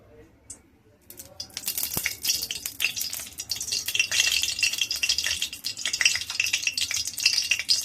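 Oil poured into a hot pan for frying a katla fish dish, a quiet start giving way to a steady, rising sizzle with light utensil rattles, close by.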